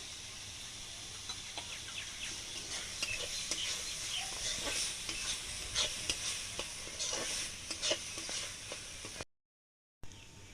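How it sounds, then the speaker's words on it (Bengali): Boiled chowmein being stirred and tossed into a sizzling spice mix in a pan, with steady scraping and frying noise for several seconds before a brief drop to silence near the end. "এবার এর মধ্যে দিয়ে দেবো। ভালো করে একটু নেড়ে চেড়ে নেবো।"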